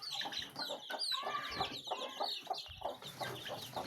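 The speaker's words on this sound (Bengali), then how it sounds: "তো আমি এখানে মুরগির বাচ্চাগুলো সব ছেড়ে দিব" Young chickens, the bigger ones let out of their coop, cluck and chirp in a busy continuous chatter, fairly quiet and somewhat distant, with no talking.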